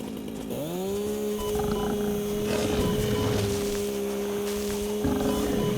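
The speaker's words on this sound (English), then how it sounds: "I've never fought a hog with a chainsaw" A chainsaw from the video game Satisfactory roars steadily as it attacks a hog, its loud motor drone holding one pitch throughout with a brief surge near the end, with no talk over it.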